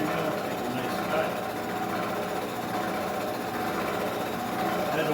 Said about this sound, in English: Got a nice sharp end mill, take a nice cut.